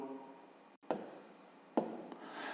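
A pen or pencil writes a math exercise by hand, giving two close, soft bursts of scratchy strokes separated by a short pause, with no talk.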